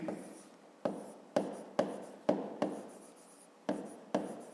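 A pen writing out a formula while solving a fifth-grade perimeter problem: about eight short, crisp strokes, close and quiet, in a steady start-stop rhythm with no voices.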